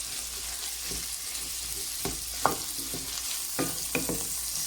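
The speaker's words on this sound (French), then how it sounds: "Et je les laisse revenir à feu doux." Salt, cumin, pepper and turmeric sauté on low heat for a Moroccan fava bean and spinach dish, a steady soft sizzle broken by several scraping stirs of a utensil against the pan, with no talk.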